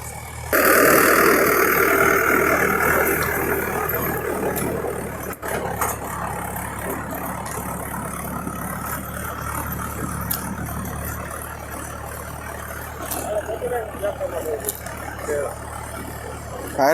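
A tractor engine idles and runs on a farm in cold weather, a steady low mid-pitched drone lasting throughout, with someone talking over it and some background noise.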